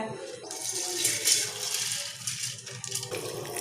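Water from about half a tumbler poured onto overnight-soaked Mappillai Samba rice for grinding into halwa batter, a steady close splashing and trickling pour lasting several seconds with no talk over it.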